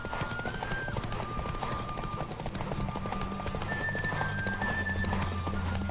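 Rapid hoofbeats of a galloping horse in The Witcher 3 during a horse race, steady and loud throughout over a continuous game music bed.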